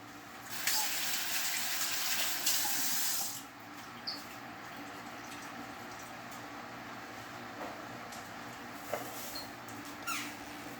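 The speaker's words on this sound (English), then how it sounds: "Wash your hands." Running tap water in a kitchen while hands are washed, a loud steady hiss for the first few seconds that then cuts off, leaving quiet room sound with faint clicks.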